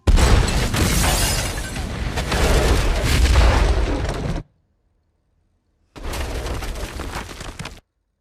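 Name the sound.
missile strike explosion destroying a house, film Eye in the Sky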